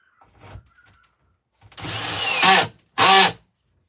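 Power drill driving screws back into a van wall, with a couple of soft handling knocks, then one long whirring run that ends in a strained burst, followed by a second short, loud burst.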